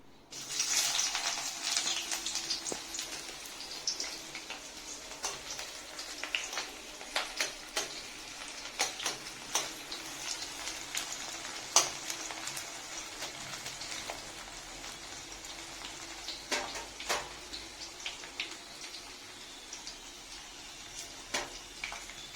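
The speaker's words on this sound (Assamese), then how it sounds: "এয়া মই তেল দিছোঁ কেৰাহীটোত" Oil heats in a kerahi (wok) with a faint, thin sizzle and scattered sharp crackles and pops throughout.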